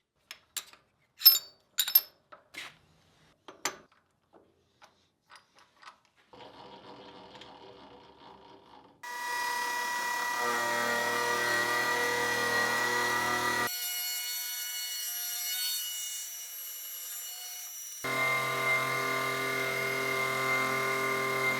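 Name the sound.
milling machine face mill with carbide inserts machining brass ingot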